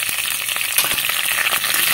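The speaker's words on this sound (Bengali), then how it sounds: "কারি পাতাটা দিয়ে দিচ্ছি।" Curry leaves added to hot oil spit and crackle in a dense, bright sizzle, with a few sharper pops across two seconds and no voices.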